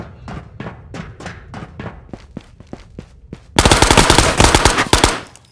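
Rapid Uzi bursts in the VR shooter Ghosts of Tabor: a string of sharp separate shots, then a loud, dense sustained burst of automatic fire near the end, close and dominant with no talk.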